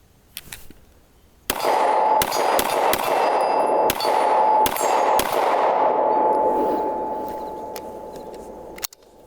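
A German-made Sig Sauer P226 X5 pistol is fired on a range: about eight sharp, loud shots in an uneven sequence, with a ringing metallic clang that lingers and fades after them.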